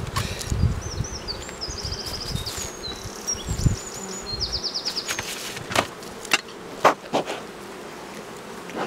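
Bees hum steadily around a neighbouring beehive in an apiary, a close, continuous insect drone, with bright birdsong chirps and trills scattered above it and a few soft knocks and rustles.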